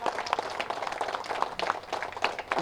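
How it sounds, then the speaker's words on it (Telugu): Audience clapping at a pyramid meditation centre opening in Meerpet, a moderately loud crowd applauding steadily throughout, somewhat softer and more diffuse. "అదేలాగా పత్రి మేడంకి గట్టి క్లాప్స్ కొట్టుకుందాం."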